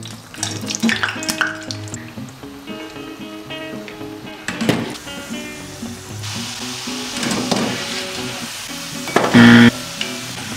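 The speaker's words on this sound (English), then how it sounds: "What we need now is peanut oil for frying the struffoli." Struffoli dough balls fry in peanut oil, giving a steady sizzle with bursts of bubbling and occasional stirring and clattering from a pan close by.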